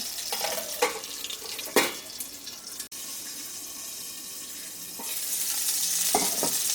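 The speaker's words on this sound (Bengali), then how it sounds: "এখন আঁচটাকে একটু স্লো করে আমি এটাকে দুই তিন মিনিটের জন্য ভেজে দিচ্ছি" Shrimp paturi wrapped in taro leaves fries on low heat in a pan with a steady soft sizzle, broken by a few brief louder clattering bursts from handling near the pan.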